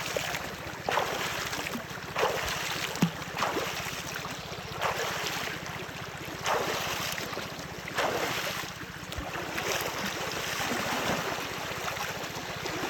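Strong current of the Goyain river at Lalakhal, Sylhet, a continuous broad rush of fast water with gusty wind buffeting the microphone in repeated surges, steady and close, with no voices.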